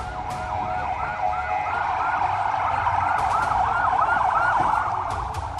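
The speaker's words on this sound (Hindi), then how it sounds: "हमले का सायरन बज रहा है" An attack siren sounds in Khan Younis, Gaza, its loud, wavering wail rising and falling repeatedly over steady street noise, with a few sharp clatters mixed in.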